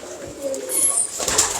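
Pigeons of a fancy teddy breed coo at close range in a brief mid-level burst, with faint bird chatter and some background voice mixed in.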